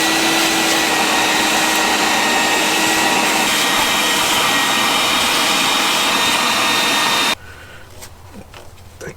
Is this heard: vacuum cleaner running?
yes